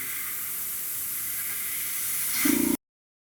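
An airbrush spraying paint for pre-shading: a continuous close, bright hiss of air that swells slightly before cutting off abruptly, followed by silence.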